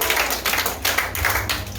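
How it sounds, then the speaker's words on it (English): Applause from a comedy show audience, a dense burst of crowd clapping that fills the short moment with steady rustling claps, with no talking over it. "so clap it up"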